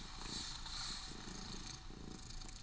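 A cat purring steadily up close, a soft low rumble pulsing in a continuous rhythm with no voices.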